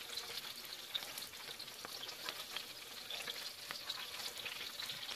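Gyoza pot stickers fry in a pan as they brown, giving a steady, close sizzle with crackly pops and faint spatter throughout, no voices over it.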